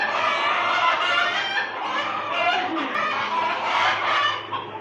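Chickens being caught at a poultry farm in Saudi Arabia squawk and cackle loudly, a dense and continuous din of many birds with no pause.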